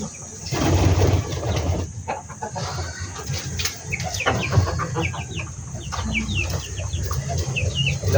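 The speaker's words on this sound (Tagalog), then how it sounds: "nandiyan yung mga manok natin." Chickens cluck and chatter continuously nearby, with occasional sharper calls and some background farmyard noise.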